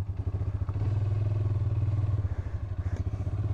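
A 2023 Polaris Sportsman 570 Ride Command ATV engine drones steadily and loud while riding through mud in rear-wheel drive, with a rough pulsing low rumble and light clatter.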